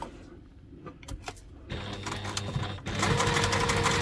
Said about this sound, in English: I like to try and do my stitching on my webbing the same colour as the webbing